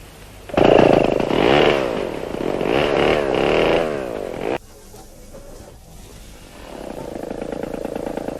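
A chainsaw bites through branches during forestry log harvesting, loud and close with rising and falling pitch as it cuts, then drops off abruptly to a low idle before building again.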